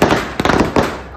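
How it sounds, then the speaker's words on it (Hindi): Firecrackers bursting during Bhai Dooj festivities: three sharp broadband bangs about 0.4 seconds apart, loud and close, with crackling debris between them and no talk. "उड़के क्यों आ रहे पटाखे?"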